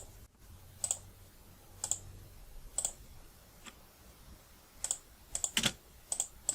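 Sparse, crisp keystrokes on a computer keyboard while entering spreadsheet data, about a dozen isolated clicks spread irregularly over quiet room tone, with no talking.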